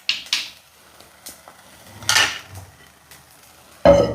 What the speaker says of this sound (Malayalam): അപ്പോൾ ഞാനൊന്ന് ഇളക്കി കൊടുത്തിട്ട് ഒന്ന് മൂടി വയ്ക്കാം നമുക്ക്.